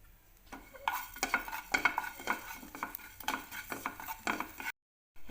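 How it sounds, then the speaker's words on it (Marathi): Cumin seeds are stirred and dry-roasted in a pan with a spoon, giving irregular scraping and light clinking strokes at moderate volume with no talking, then a short silence near the end followed by a brief resumption. "तर जिरं भाजून घेऊयात."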